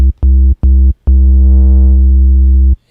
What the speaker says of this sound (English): we can give it a little bit of distortion.